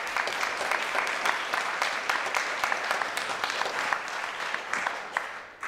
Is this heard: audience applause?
yes